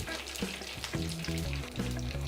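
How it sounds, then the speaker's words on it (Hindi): Loud, crackling sizzle of curry leaves dropped into hot oil for a tempering for masala khichdi, spitting and popping steadily throughout. "अब इसमें आप कुछ कड़ी पत्ते डाल दें"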